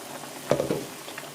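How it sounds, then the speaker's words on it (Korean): A pot of tteokguk, rice cake soup with green onion and kelp, bubbles quietly and then gives a short burst of sizzling and clinking near the middle before the soft simmer continues. "이제 떡국은 다 끓인 거예요."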